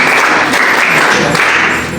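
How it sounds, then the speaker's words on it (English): A classroom audience gives a short burst of dense, loud applause that fades slightly at the end. "Please clap for her."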